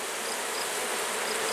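Dense, steady buzzing of many honey bees at an open hive during a honey super combine, loud and close, a continuous drone with no talking.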